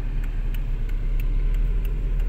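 A Seat Toledo with a stage 1 software tune pulls away directly in second gear, its engine droning steadily and close, with a low rumble throughout and faint regular ticks above.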